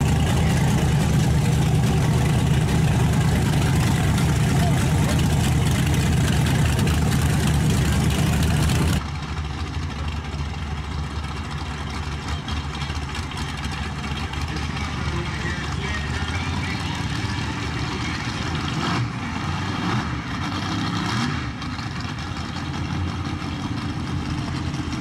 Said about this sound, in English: we have the twin turbo Firebird flying high.